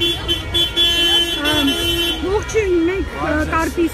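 Car horns honk in protest at the Mashtots-Pushkin street intersection, with long wavering horn tones sounding continuously under someone speaking close by.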